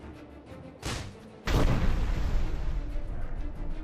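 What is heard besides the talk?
cannon fire in a video game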